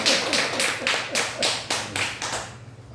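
A church congregation claps for a deacon, about eight loud, evenly spaced group claps in a steady rhythm that stop abruptly near the end.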